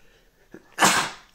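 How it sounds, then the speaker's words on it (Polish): A single person sneezes close to the microphone: a short intake, then one sharp, explosive burst that fades quickly in an otherwise quiet room. "Mam nadzieję, że mi się na szczęście tutaj kichnęło"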